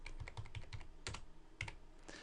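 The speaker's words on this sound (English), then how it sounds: "So hit Control, then the letter V." Keys clack on a computer keyboard during a Microsoft Word 2007 lesson: a quick run of close, crisp taps, then a pause and a couple more presses, heard alone without speech.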